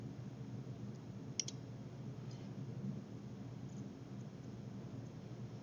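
A single soft computer mouse click while working in bridge design software, a brief tick over a steady low background hum with no one speaking.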